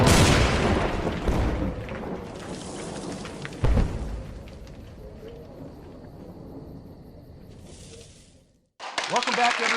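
Grenade explosions in an audio drama battle scene arrive as heavy booms over rumbling, rain-like crackle, with one sharp blast standing out, voices shouting amid the chaos, and a sudden cut to a quieter section near the end.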